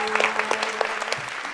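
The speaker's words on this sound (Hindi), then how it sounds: "बाय बाय, ढेर सारी तालियां।" A studio audience at a comedy quiz show applauding, a brief burst of dense, crackling clapping that holds steady and fades slightly at the end.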